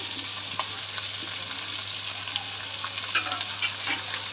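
Capsicum and other vegetables sauté in ghee, a soft, even sizzle with occasional light clinks of stirring, fairly quiet and steady throughout without any voices.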